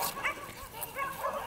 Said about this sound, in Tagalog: maraming aso guys.